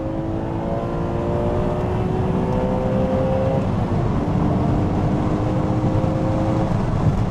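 A BMW E85 Z4 M Roadster fitted with a Gruppe M intake accelerates hard, engine note climbing steadily through the revs with a brief dip at a gear change, loud and continuous from inside the car.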